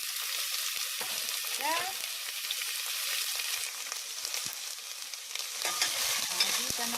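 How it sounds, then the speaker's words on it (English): One medium onion sautés in olive oil in a pot over high heat, a continuous close sizzle and crackle with occasional stirring scrapes, and a voice speaks briefly once. "I'm gonna saute onion, about one medium onion."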